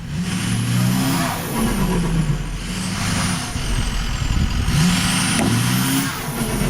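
A pickup truck loaded with tires in the back revs hard while straining to pull a tree stump, its engine surging and falling in repeated waves with rising and dipping whine, loud and close, no voices.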